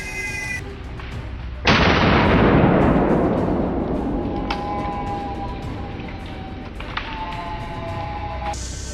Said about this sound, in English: I raised my gun, took a quick aim, and pulled the trigger